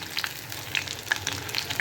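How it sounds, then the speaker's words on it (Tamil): Paneer 65 frying in hot oil as the bubbling settles down, a steady soft sizzle with scattered small crackles and pops, close by and without talk. "இப்போ பார்த்தீங்கன்னா எண்ணெயில் கொதி நிலைமை வந்து நல்லா அடங்கிருச்சு"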